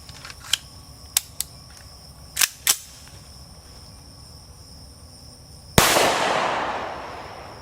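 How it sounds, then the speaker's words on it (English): Remington R51 Gen 2 pistol firing a single loud gunshot with a long ringing decay, preceded by several sharp, light mechanical clicks. "first shots ever with my brand new Remington R51 Generation 2"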